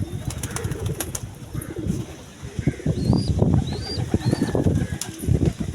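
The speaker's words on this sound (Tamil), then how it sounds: "அந்த புறா வந்து எப்படி அழகாக பார்த்துக்கிட்டே இருக்கு பாருங்க" A pigeon beside a cage gives low, soft coos amid busy rustling and scattered faint chirps, close by and fairly loud.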